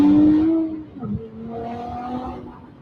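A Nissan Z with downpipes fitted accelerates hard, its exhaust a throaty, rising engine note that dips briefly at a gear change and then climbs again, close and loud with no voices over it.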